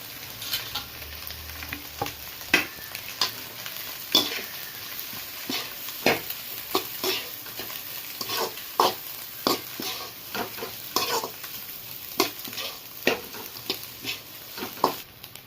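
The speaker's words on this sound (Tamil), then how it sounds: "இப்போ கோஸை வெட்டி வச்ச கோஸை போட்டுக்கலாம்" Cut cabbage and capsicum stir-fried in a pan, with a steady background sizzle broken by repeated scraping stirs and clinks of the spatula at an uneven rhythm, close and fairly loud, with no talking.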